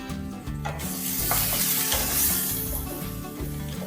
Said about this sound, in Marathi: आपण थोडा वेळ अशी तेलामध्ये भाजल्यामुळे त्याचा कडवटपणा जातो